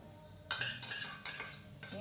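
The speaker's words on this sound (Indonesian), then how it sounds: "saya aduk rata" Agar-agar powder and sugar stirred in a pot, with a spoon clinking and scraping in several short bursts close by.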